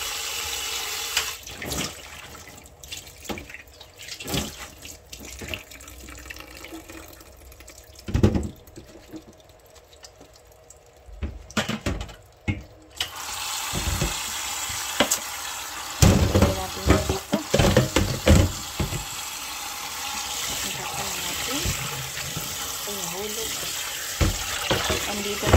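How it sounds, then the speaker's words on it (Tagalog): Tap water runs and splashes in a sink while leafy vegetables are rinsed by hand, with intermittent clunks and rustles over steady flow, close by, and a voice talking at times. "Ayan na guys, hugasan na nga natin yung gulay."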